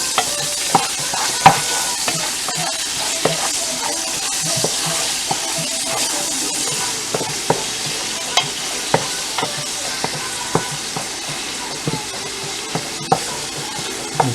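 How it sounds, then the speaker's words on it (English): Ginger frying in a pot for Guyanese hassar curry, a steady close sizzle and hiss with regular sharp clicks of a spoon stirring against the pot throughout, no voices. "we're gonna let this fry a little bit."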